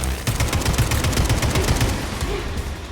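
Rapid bursts of automatic gunfire in the video game Atomic Heart, loud and close, rattling steadily across the whole stretch with no talk.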